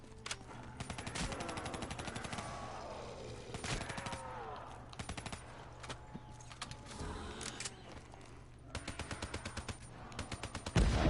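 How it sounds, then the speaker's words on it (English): Rapid rifle gunfire from Black Ops 3 comes in repeated automatic bursts, loud and close, with a steady low engine-like hum running underneath and a final heavy burst at the end. "Now this is a rifle."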